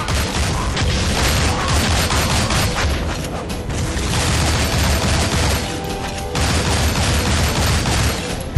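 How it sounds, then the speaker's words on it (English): Grenades blowing up in the side-scrolling action game Shank, a dense, loud run of booms and gunfire-like bursts that barely lets up, with rumbling low end throughout. "I was just trying to pick up the grenades. It didn't have to explode on me."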